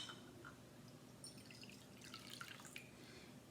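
Water poured from a cup into a dish, heard as quiet, faint dripping and trickling splashes scattered over about three and a half seconds, with no one talking.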